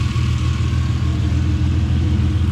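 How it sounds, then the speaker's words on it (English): Dual radiator cooling fans kicking on in a Ferrari 330 GTC at running temperature, a steady low whirring drone blended with the engine's idle rumble, loud and close, no talk. "You just heard the fans kick on."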